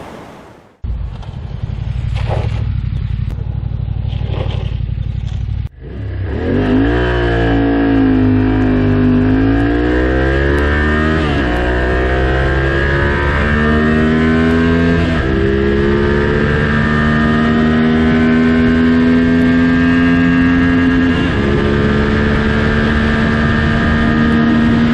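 A Yamaha Ténéré 700 motorcycle with a cable-operated throttle starts after a few seconds of quiet clatter, then rises and falls through a series of loud, close revs with a raspy, wind-buffeted roar.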